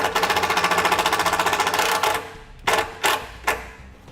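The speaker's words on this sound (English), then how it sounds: "Then we'll take our self-tapping screw, go through our ring terminal," A self-tapping screw driven by a power drill through a ring terminal while installing a Firestone Air Command II compressor and air tank on a 2018 Chevrolet Silverado, a steady buzzing whir for about two seconds, then several short sharp bursts.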